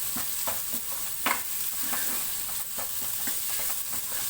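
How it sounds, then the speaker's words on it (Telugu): Spicy mutton chukka frying and being stirred in a pan, a steady sizzle punctuated by repeated scraping strokes of a spoon against the metal, close and fairly loud. "ఇప్పుడు దీన్ని బాగా ఫ్రై అవనిచ్చేస్తాను నేను, కొద్దిగా మూత పెట్టేసి."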